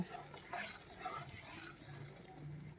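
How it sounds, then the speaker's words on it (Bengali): Chicken is sautéed in a pan, with a soft, continuous sizzle and occasional stirring scrapes at close range throughout. "এবার সুন্দর করে আমি কষিয়ে নেব"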